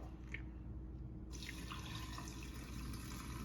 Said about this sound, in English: The fish now, you're going to throw off the water.